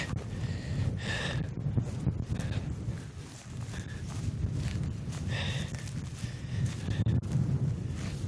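Steady high-mountain wind rushes and buffets the microphone throughout, with low rumbling gusts and a few brief higher rustles, no voices.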